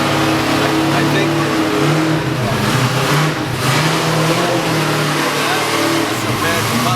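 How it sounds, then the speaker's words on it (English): A trophy truck engine revs loudly and steadily outside a San Diego microbrewery, its rough droning roar sustained throughout while people talk and shout over it. "Trophy truck, baby."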